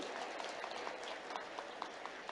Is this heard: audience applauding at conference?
yes